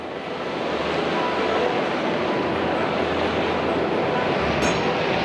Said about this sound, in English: Water is jetted from at least 6 different vents, the central burst reaching heights of 20 feet.